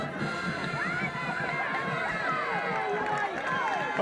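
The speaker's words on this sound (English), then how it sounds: "the crowd over here exhorting the fellas to get a yard" A high school football crowd at Upper Dauphin versus Halifax cheers and shouts steadily from the stands, a continuous dense roar of voices with calls rising over it, mid-distance and moderately loud.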